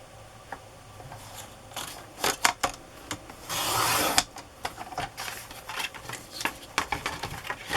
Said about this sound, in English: I'm cutting about 1/4 inch off.